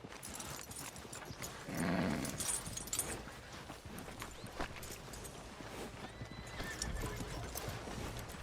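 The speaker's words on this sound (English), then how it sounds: "Are you gonna mount that new horse of yours or not?" Video game horse in Red Dead Redemption 2: hooves clop at a steady walk while the horse whinnies once, fairly close, over faint ambient noise.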